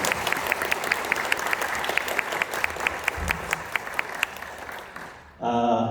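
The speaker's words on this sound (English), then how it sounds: "May we hear another round of applause for our saxophone." Audience at a school concert applauds a saxophone soloist, a full, steady clatter of many clapping hands that fades near the end as a voice begins to speak.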